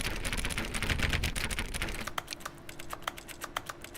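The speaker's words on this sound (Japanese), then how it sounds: "クリックするとこのキーボードの打鍵音みたいなのがするのかち" Rapid keyboard typing clicks from repeated clicking in The Stanley Parable: Ultra Deluxe, a run of sharp, distinct keystrokes in fairly steady rhythm, close and clear, following a denser, busier stretch of clicking at the start.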